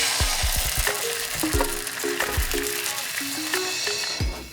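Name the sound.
egg, soy sauce and sugar mixture frying in hot oiled pan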